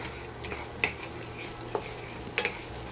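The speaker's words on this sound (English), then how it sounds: "Then we put in our slivered almonds. We'll let these roast." Slivered almonds roast in two tablespoons of melted butter in a hot pan, giving a steady soft sizzle with a few sharp clinks and scrapes of stirring.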